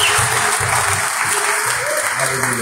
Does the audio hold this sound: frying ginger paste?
no